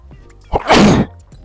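A single loud, close sneeze, a quick sharp intake followed by a forceful burst.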